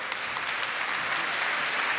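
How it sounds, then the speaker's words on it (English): An audience at the launch of the North-South Commission on Development breaks into applause, a steady and fairly loud patter of many hands that holds even throughout, with no voices heard over it. "Let's give the team a round of applause for making this here."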